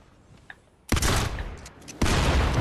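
Loud, dense bursts of gunfire from the video game Fortnite, a sudden barrage erupting near the one-second mark and a second heavy volley around two seconds, close and continuous with no talking.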